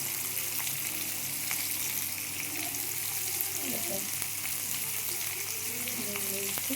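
Potatoes frying in oil for a pea and potato dum curry, a steady broadband sizzle that runs loud and continuous throughout, with faint scraping of stirring underneath.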